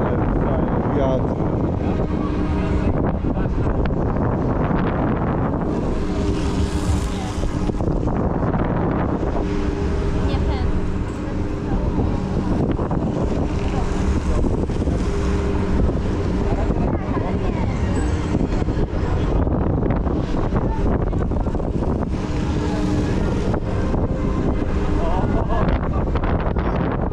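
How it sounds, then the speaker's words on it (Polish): Strong wind on an amusement park ride at Energylandia roars steadily against the microphone for a long stretch, with a low engine drone and gusting surges, loud and close throughout. "Ale fajny wiatr."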